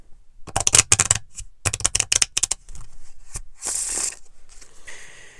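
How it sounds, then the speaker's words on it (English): A new, slippery deck of playing cards is shuffled in several quick riffling bursts, close and crisp, followed by a longer softer rustle of cards being bridged and squared up. "it's also a difficult shuffle with new decks when they haven't been properly broken in"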